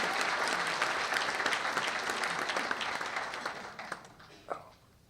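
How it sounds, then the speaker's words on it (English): A live audience at a leadership celebration event breaks into loud, sustained applause with cheering, the clapping thinning out and fading over the last couple of seconds with a few scattered claps. "You guys are supposed to cheer."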